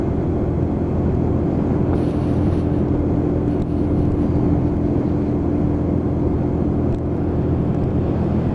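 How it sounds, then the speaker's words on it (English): A Lexmoto Michigan motorcycle engine drones steadily as it labours uphill, a continuous low rumble with a constant hum and wind noise over it, and no speech. "I can hear that engine working to push me up the hill"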